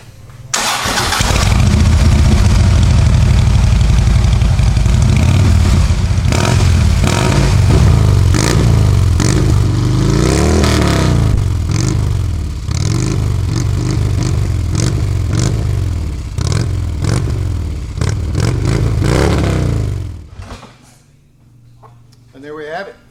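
A Harley-Davidson motorcycle fitted with Rinehart slip-on exhaust fires up and revs loudly and close for about twenty seconds, the engine rising and falling through repeated throttle blips before it cuts off abruptly.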